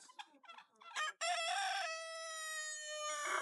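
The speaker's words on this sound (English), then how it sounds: "It's a white peacock." A white peacock in Nassau gives one long, loud, drawn-out call with a steady pitch that holds for about two seconds, close by, after a few moments of brief voices.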